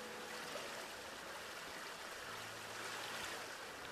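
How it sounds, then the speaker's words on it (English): A small decorative water fountain in the Jurassic World Evolution 2 video game splashes and trickles in a steady, even wash of flowing water, fairly quiet and continuous with no talk. "So I put a little water fountain"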